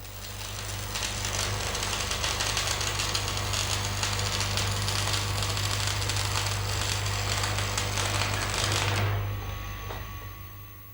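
Steady, continuous crackling and sizzling of stick-electrode arc welding, running loud and close for about nine seconds with a low electrical hum beneath, then cutting off abruptly as the arc is broken, leaving a fading hum.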